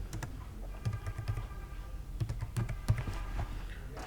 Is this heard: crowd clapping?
no